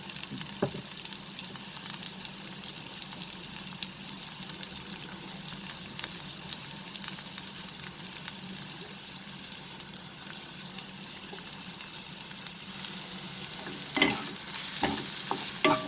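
Chopped onions fry over a medium flame in a steady, close sizzle with faint crackles, broken by a few utensil scrapes and clicks of stirring toward the end.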